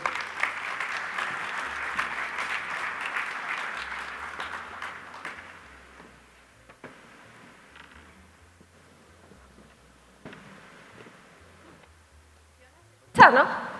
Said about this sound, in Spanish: Damos la bienvenida con este aplauso a Macarena Letelier.